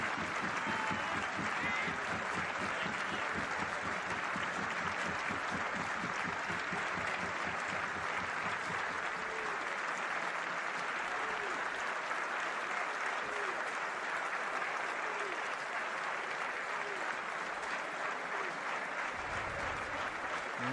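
Sustained stadium applause from a football crowd, including supporters of Slovácko, as an injured, bleeding Bohemians goalkeeper is carried off on a stretcher in a Czech league match; steady, dense clapping fills the whole stretch at an even level.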